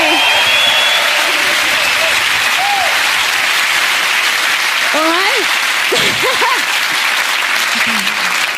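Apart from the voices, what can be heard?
audience applause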